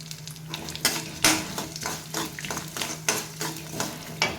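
Watermelon seeds and sesame seeds roast in a hot pan, crackling and popping close up while a spoon scrapes and stirs in repeated strokes over a dry sizzle.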